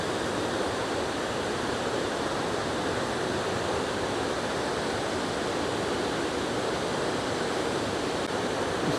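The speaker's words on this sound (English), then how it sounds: "there's quite a view of the waterfall from here" Rhaeadr Ddu, the Black Waterfalls, pours in a steady, dense broadband roar of falling water, loud and unbroken throughout with no voices.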